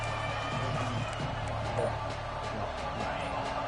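Football stadium crowd before a game against Clemson, a steady dense roar of many voices with babble and scattered cheering, loud and continuous throughout.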